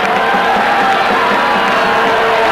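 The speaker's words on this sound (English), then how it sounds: "Great crowd." Large crowd of hockey supporters, many Dutch and some Pakistani, at the 1994 Hockey World Cup final between Pakistan and the Netherlands, giving a steady loud roar with scattered shouts.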